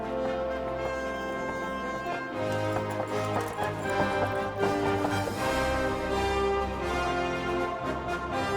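A horse's hooves clip-clop along in the medieval game Kingdom Come: Deliverance, a steady rhythmic patter of tapping steps moving beneath a dense layer of orchestral music.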